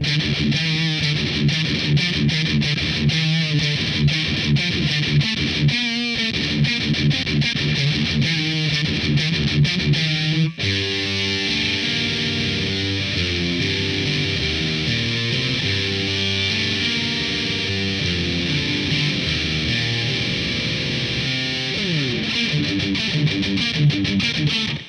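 A loud, heavily distorted electric guitar plays through an amp continuously, chugging riffs and sustained chords with a thick, gritty amplified tone throughout.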